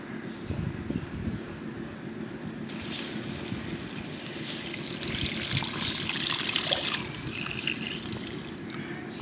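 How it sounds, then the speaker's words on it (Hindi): Leftover water from boiling red lobia beans poured into a pan, a running trickle that swells louder for a few seconds midway before easing back to a softer pour, with no talking. "इसमें लोबिया का पानी जो बॉईल करने के टाइम बच गया था वो इसमें शामिल कर देंगे।"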